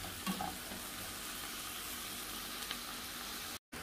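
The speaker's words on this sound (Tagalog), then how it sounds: "Lutuin natin muna itong ating seafood." Seafood being cooked in a pan for creamy seafood burgers: a constant close sizzle with occasional stirring scrapes and a few sharp ticks, with no talking, before a sudden cut to silence at the end.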